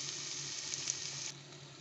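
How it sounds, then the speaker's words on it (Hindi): Onions frying in a pan for a brain (magaz) curry, a soft continuous sizzle with a brief stir partway through, quiet and close with no voices. "प्याज फ्राई हो चुका है।"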